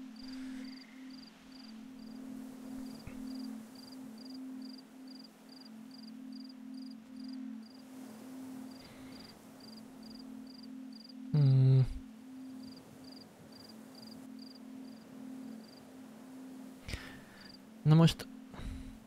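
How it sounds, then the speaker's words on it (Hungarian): Crickets from the video game Antichamber give a steady, faint, high chirping pulse that repeats over a constant low hum, with a few louder sound effects breaking through now and then. "Tücsök ciripelést hallok."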